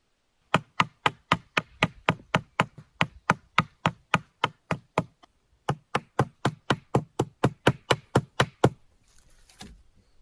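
A snapped flint or chert flake is drawn over and over against material to cut through it, giving a fast, evenly spaced run of crisp knocking strikes close by, a brief pause midway, then another steady run.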